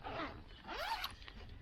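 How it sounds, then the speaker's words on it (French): Zipper on an Ozone paraglider inner storage bag pulled open in two quick rasping strokes, close up and alone. "Chez Ozone, donc ils ont fait des sous-sacs un petit peu nouveaux, avec une fermeture éclair"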